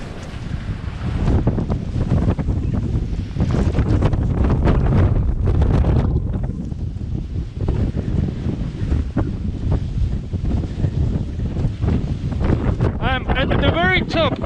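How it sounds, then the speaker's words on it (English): Strong wind buffets the microphone on top of a wind farm windmill, a loud continuous roar of gusts running throughout, with a brief whistling tone near the end. "I will not climb upper because the wind is too strong"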